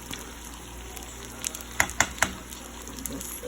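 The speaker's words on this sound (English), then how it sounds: "keep your eye on the stove when you're frying this" Quiet steady sizzle of ground beef and cheese turnovers frying in oil on a stove, with a few sharp pops and crackles near the middle.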